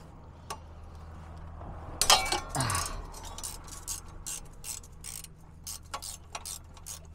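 A socket wrench ratchets in short, uneven bursts of close clicking during a service on a Kubota tractor. Metallic handling knocks and clatter are mixed in over a low mechanical hum.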